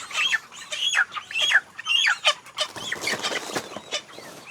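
Several fowl call and cluck close by in quick, overlapping bursts, with rustling and scratching underneath; no one speaks.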